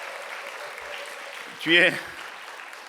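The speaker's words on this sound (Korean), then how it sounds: "우리 박수를 한번" Soft, scattered applause from a church congregation at a dawn prayer service with children, a low wash under a voice that briefly speaks over it.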